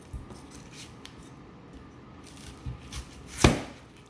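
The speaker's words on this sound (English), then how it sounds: "you're going to cut off both poles of the onion" A knife cuts both ends off an onion in a children's cooking lesson, giving a sharp crisp chop near the end after a couple of softer taps, close and clear against quiet background.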